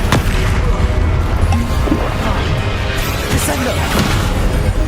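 Depulso and Flipendo spells cast in the Hogwarts Legacy video game: loud, continuous combat noise with repeated thudding impacts and whooshes, partly under voices.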